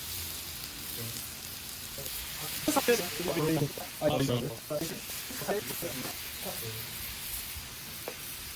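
New York strip steaks sizzle on a home hibachi grill, a steady close hiss that swells into louder crackling bursts midway, with people talking over it.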